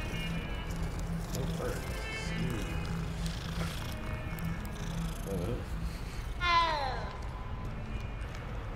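A cat purrs and meows in the wizarding game Hogwarts Legacy, a steady purr running under dense game ambience and background noise, with a brief louder meow near the end.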